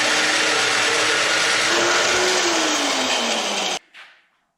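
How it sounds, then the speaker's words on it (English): A loud, continuous drill whine runs for several seconds while drilling holes out to 3/4 inch on a 1966 Corvette C2 front suspension, its pitch dipping slightly, then cuts off suddenly leaving a brief fading rattle. "The first step is going to be drill out these holes to 3/4 of an inch."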